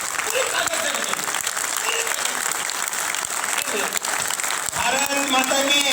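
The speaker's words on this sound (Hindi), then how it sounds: "ताली तेज" A crowd at a political rally in Mawana claps loudly and continuously, dense applause close by, with voices shouting over it.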